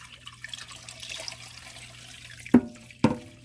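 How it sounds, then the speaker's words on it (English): Hot water poured to rinse the splatter screen of a Ninja Foodi Grill, a soft running trickle followed by two sharp clanks of metal close by, with no talking. "I have just some hot water. I'm just going to pour just for an initial rinse"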